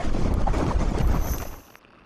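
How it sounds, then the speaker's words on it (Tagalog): Strong typhoon wind roaring through Taipei, Taiwan, a loud continuous rushing buffet against the microphone that drops away abruptly near the end. "Ganito naman kalakas ang hangin na bumayo sa Taipei."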